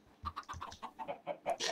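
Chickens in the video game Minecraft cluck in a quick series of short, close, rhythmic clucks, about a dozen in under two seconds, with no talk.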